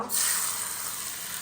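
Curry leaves and spices sputter into hot oil for tempering with a sudden loud hiss that settles into a steady, close sizzle, with no voices.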